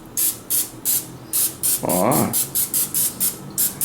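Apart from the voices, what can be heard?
vegetable oil cooking spray sprayed on a surface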